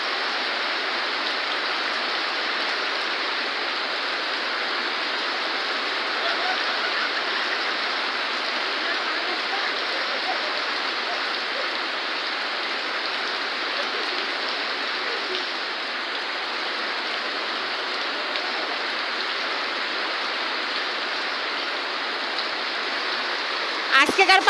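Steady rain pours down without a break on a rainy day when people bathe outdoors, a dense, even hiss holding at constant loudness throughout with no voices standing out.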